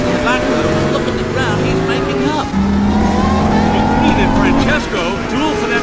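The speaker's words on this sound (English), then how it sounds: "There's going to be tremendous speed from all these cars coming off the start line." Race cars speed off the start line in the Cars 2 Tokyo race, engines droning loudly and steadily with rising whines of passing cars, under continuous commentator talk and crowd din.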